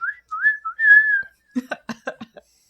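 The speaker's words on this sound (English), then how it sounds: "That's the whistle." Several short whistled notes, rising and sliding, ring out clearly and close. A quick run of soft, breathy puffs or taps follows them.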